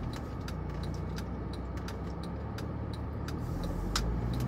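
Cars passing through a road junction at a red light, a steady wash of nearby traffic rumble with faint clicks and ticks over it, heard from inside a vehicle.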